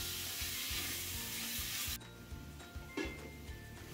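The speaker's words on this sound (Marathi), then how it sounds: "लो फ्लेम वरती आपण हे पुरण शिजवून घेऊयात." Coconut and jaggery filling is stirred in a pan over a low flame, giving a steady close sizzle with scraping spatula strokes. The texture changes partway through, and no one speaks.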